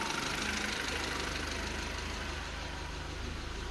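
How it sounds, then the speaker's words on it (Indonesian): A 2002 Hyundai Atos GLS engine idles smoothly and steadily, its faint, even hum running unbroken throughout with no voices. "Ini mesinnya udah nyala. Mesinnya halus teman-teman."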